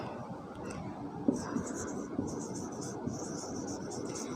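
A pen scratches steadily across paper or a board while an accounting formula is written out, a faint, close scribbling with small taps, with no one talking over it.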